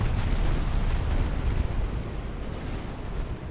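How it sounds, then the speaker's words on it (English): A warship's magazine detonates in Ultimate Admiral: Dreadnoughts, a heavy sustained blast that rolls out as a loud, deep rumble with crackling bursts, fading slightly over a few seconds, no voices. "Los Angeles just had a magazine detonate"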